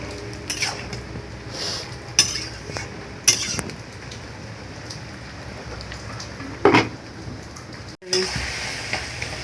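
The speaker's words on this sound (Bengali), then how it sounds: "নাড়াচাড়া এরকম দিয়ে, নাহলে পুড়ে যাবে।" Taro leaves cooking with a rohu fish head are stirred in a sizzling pan, with a spatula clanking now and then over a constant rain-like crackle. The sound is near and there is no speech.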